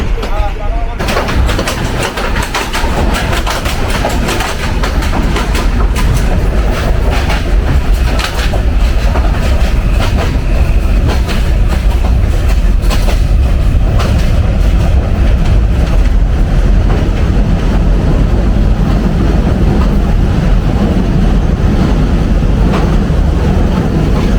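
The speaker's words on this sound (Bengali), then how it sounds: "যমুনা এক্সপ্রেস প্রবেশ করছে" Jamuna Express passenger train rolling into Dhaka's Airport railway station on a rainy run toward Joydebpur, a loud continuous rumble and clatter of carriages heard from on board, with voices faintly mixed in.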